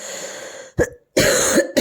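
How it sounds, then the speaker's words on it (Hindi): A woman with a lingering illness coughs in two quick harsh bursts after a short breathy throat sound, close to the mic with brief silences between. "वॉइस ओवर कर रही हूँ तो बार बार खांसी आ जा रही है"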